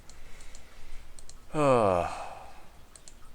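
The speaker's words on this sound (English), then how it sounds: "My mouse clicks a lot." Scattered light computer mouse clicks, close and faint, before and after someone briefly speaks over a low background hum.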